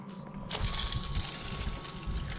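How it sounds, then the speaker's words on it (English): A 12V fresh water pump in a Pajero camping setup switches on after a short click and settles into a steady low hum and whir, with a light watery rush above it. "Water pump. Fresh water."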